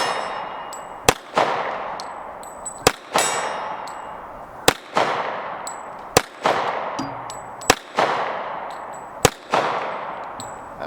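A 1911 pistol fires .45 ACP rounds from a Dan Wesson magazine, giving about seven loud, evenly spaced reports. Each report carries a ringing metallic decay, and no one speaks between shots.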